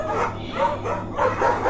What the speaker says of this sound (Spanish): Todo esto pasaba en medio de los ladridos,